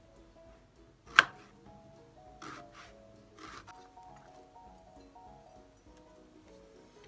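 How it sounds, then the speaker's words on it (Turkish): A knife chops onions into half-moon slices on a cutting board: one sharp, loud thunk followed by a few softer cuts, sparse and close, in an otherwise quiet room. "soğanlarımızı piyazlık yarım ay şeklinde doğramaya başlayalım"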